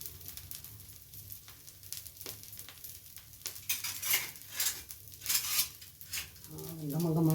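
Ragi dosa fries in oil or ghee on a pan, a soft steady sizzle with intermittent scraping and clinks of a utensil, growing louder toward the end while a voice speaks quietly.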